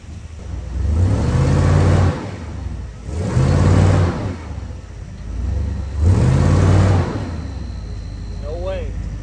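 Polaris Ranger XP 1000 UTV driving in two-wheel drive, engine revving up in three strong surges about two seconds apart, close and loud, with a steady motor hum between bursts.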